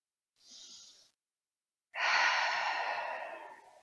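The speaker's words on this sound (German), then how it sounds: "Atme einmal tief durch." A slow, deep yoga breath: a soft inhale, a pause, then a longer, louder exhale heard up close and alone.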